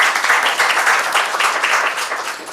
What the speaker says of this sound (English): So thank you very much for the two presentations. In the interest of time, so yes, good round of applause.